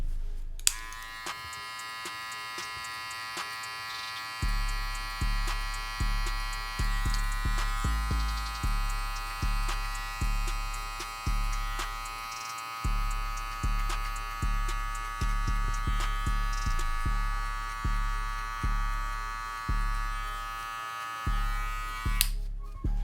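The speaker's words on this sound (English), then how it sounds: "Now I have my lever all the way open and I'm still going up and using the corner of my blade" Electric hair clippers cut a burst fade with the lever fully open, working upward with the blade corner: a loud, steady motor buzz in repeated strokes, continuous and close, with no talking.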